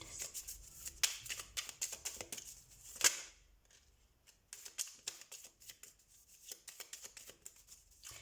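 Tarot cards shuffled by hand in a quiet room for a weekly reading, a steady run of soft riffling flutters and brisk slaps with a sharp snap near the start, then lighter shuffling continuing to the end.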